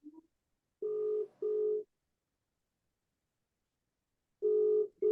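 Telephone call tone cutting into an online seminar call, heard as three steady beeps: two close together near the start, then one more after a long silence, loud and clear with no speech over them.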